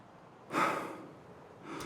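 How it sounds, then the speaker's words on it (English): Heavy, gasping breaths from a character in the video game Escape From Tarkov, one strong exhale swelling up and fading, then another breath starting near the end, close and with no talk. "We're just gonna breathe really fucking heavy."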